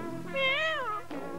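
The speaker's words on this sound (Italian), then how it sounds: "Deve essere stato quel gatto." A single cat meows once, a clear, close, rising and falling cry lasting about a second, with no talking.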